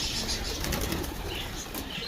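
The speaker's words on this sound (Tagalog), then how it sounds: "Ayan, dami nating ibon mga kalapatids" Pigeons flapping their wings close by, a steady fluttering rush with a few louder beats and faint soft coos mixed in, continuous through the short stretch.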